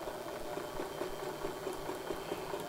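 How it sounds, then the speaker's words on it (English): A sewing machine runs steadily through fabric, a quiet continuous hum with a soft rhythmic needle patter, heard close and alone. "I'm going to continue sewing."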